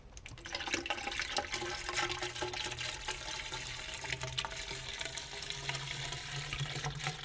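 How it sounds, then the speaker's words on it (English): Gallon of water poured into a clogged sand point well pipe, a faint continuous splashing and gurgling stream with small bubbling pops, steady from start to finish. "We're going to top it up, pour another gallon in."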